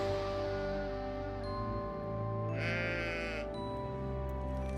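A ram bleats once, a wavering nasal call that stands out over a steady bed of background music.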